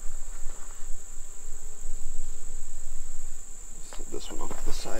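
Honeybees buzz around an opened beehive while a new queen is moved to an old hive, a steady droning hum close by that swells with a few louder passes near the end.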